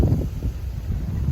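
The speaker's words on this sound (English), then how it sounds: "Very windy today, going to be windy tomorrow as well." Strong wind buffets an outdoor fishing spot, a steady low roar with gusty swells throughout the short stretch, loud and close with no talk.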